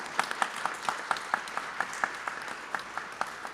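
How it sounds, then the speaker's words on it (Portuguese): Audience applause following a talk on regulatory practice, a moderate, even wash of clapping with a few distinct claps popping out at a fairly regular pace. "Salva de palmas."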